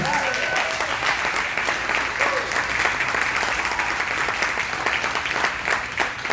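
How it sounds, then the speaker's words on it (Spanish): A church congregation applauds at an Easter Sunday service, dense, steady clapping filling the room for several seconds with some voices mixed into the crowd. "Un fuerte aplauso a Jesús."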